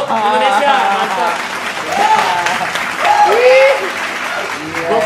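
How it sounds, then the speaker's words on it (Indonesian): Studio audience at an Indonesian talk show episode about a coffee roastery breaks into applause, clapping mixed with cheers and laughter while voices talk over it. "Tepuk tangan dulu Indonesia."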